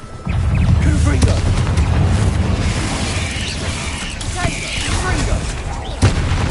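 Fire-spell explosions and combat effects from a magic duel in the video game Hogwarts Legacy, a dense, loud run of booming bursts with sharp hits near the start and around six seconds, over busy game sound.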